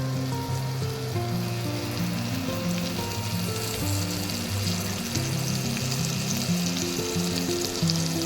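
Chopped garlic frying in a small amount of melted butter with oil in a pan, a continuous dense sizzle heard up close, with faint stirring and a steady hum beneath, no talking.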